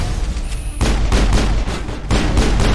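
Pistol gunfire in the video game Mass Effect: a few sharp, loud shots spaced about a second apart, each with a short echoing tail, and no talking.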